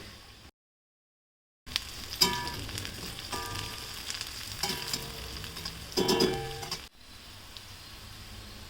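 Green chillies tossed into hot oil in a pan sizzle and fry, a soft crackle after a brief silence, with stirring scrapes rising and falling, fairly faint and close.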